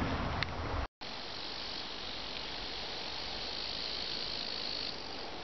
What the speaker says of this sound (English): there's this almost constant grasshopper buzzing now